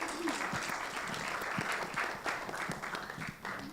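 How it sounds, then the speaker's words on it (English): Audience applause at a radio station and newspaper handover ceremony, a steady, moderately quiet roll of many hands clapping with a few sharper individual claps standing out. "Intensify your claps,"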